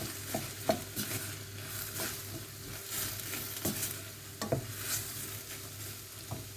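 Salsa mixture with cumin being stirred in a cooking pan, a low continuous sizzle with soft scraping strokes and occasional light clicks of the utensil against the pan.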